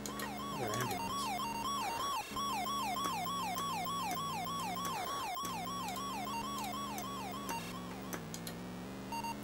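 The ambulance siren in an Atari video game plays as a loud electronic wail that warbles in rapid repeating rises and falls. It runs continuously over steady game engine tones, with no talking.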